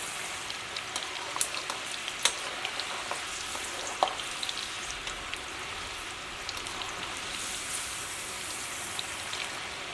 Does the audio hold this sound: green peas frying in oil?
yes